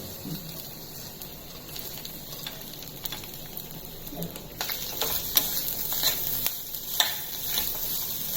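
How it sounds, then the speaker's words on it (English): Grated coconut and salt fry in a pan for a coconut chutney, giving a steady soft sizzle with scraping stirs that grow busier and louder in the second half. "Now we are adding the grated coconut and the salt."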